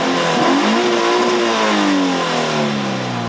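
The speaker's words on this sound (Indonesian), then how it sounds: "sekarang kita pengen denger suara 86 ini seperti apa." Stock-exhaust Toyota 86 facelift with a manual gearbox revving in a smooth, steady climb and fall of engine pitch, loud and close, with no voices.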